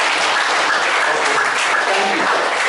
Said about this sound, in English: Please let's everybody clap for him or herself.